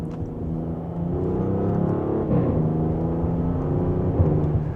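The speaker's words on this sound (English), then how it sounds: "You can hear the exhaust there." A 2025 Audi S7 engine and exhaust rumble steadily while driving in dynamic mode, a low throaty drone with a slight rise in pitch as it accelerates.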